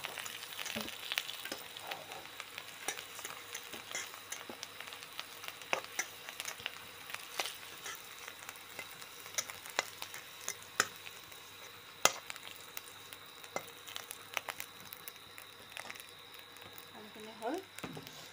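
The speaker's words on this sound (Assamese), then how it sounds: "আলুখিনি ফ্ৰাই কৰা হ'ল দেখিছেনে ৰঙচুৱা হৈছে" Potatoes fry in a pan with a steady, close sizzle and crackle, broken by scraping stirs, while a voice talks intermittently over the cooking.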